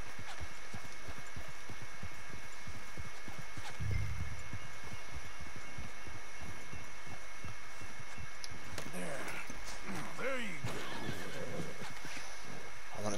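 A horse whinnies near the end over a continuous low hum and throbbing rhythm, with soft clip-clop-like thuds earlier in the background, in the video game Red Dead Redemption 2.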